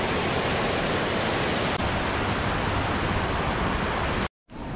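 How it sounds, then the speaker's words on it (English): A waterfall running under a small bridge, a loud steady broadband rush of falling water that briefly cuts out near the end before resuming. "There's a beautiful little bridge with a waterfall under it coming up."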